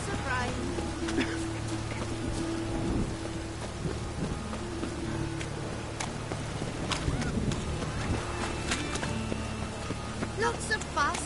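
Steady rain falls in The Witcher 3, an even hiss that stays constant throughout with faint low rumbles and tonal game sounds underneath.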